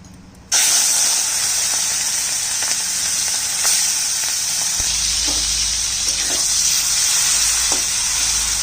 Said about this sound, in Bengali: মাছটা ভেজে নিচ্ছি, হালকা করে ভেজে নিলাম, বেশি ভাজলাম না।